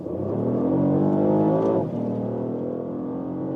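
A Porsche Panamera accelerates hard on a motorway, its engine note climbing in pitch through the gears, dropping sharply at a shift, then pulling again steadily, close and loud inside the cabin.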